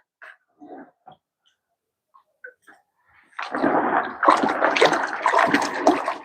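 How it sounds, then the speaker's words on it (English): Green peas being rinsed by hand in water, with a few soft isolated splashes at first, then a sustained, close sloshing and swishing as the hands work through the water. "Then you rinse with your hands."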